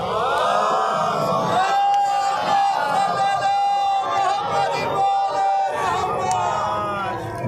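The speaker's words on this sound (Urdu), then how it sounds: "آپ حضرات نعرے صلوات کے ساتھ ان کا استقبال کریں۔" A crowd at a religious celebration for Imam Husain's birthday loudly chants the salawat slogan in unison, a near, sustained collective chant with rising and falling voices.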